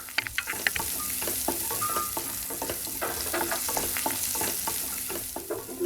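Fried cauliflower and potato pieces stirred into a sizzling gravy in a pan for a home-style flower-batata bhaji, with steady close frying hiss and repeated scraping clicks of a spoon throughout.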